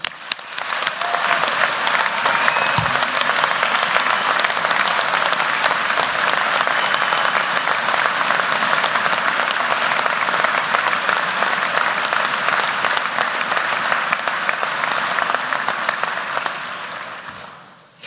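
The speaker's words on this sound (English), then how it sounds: "they deserve a warm round of applause" A university graduation audience claps in sustained, dense applause that holds steady for about seventeen seconds before tapering off at the end.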